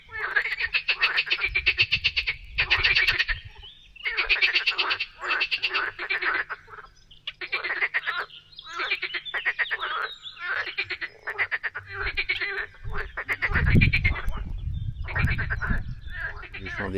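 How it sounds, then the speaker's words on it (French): A chorus of frogs croaks near a pond or stream along a kayaking route, with dense rhythmic bursts of rattling calls in repeated pulses, loud and close, alongside low rumbling handling noise. "Des grenouilles,"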